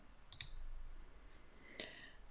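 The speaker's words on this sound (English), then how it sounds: "So I click OK." Computer mouse clicks during database software work: a quick double click near the start, then a single softer click later, close and crisp over quiet room noise.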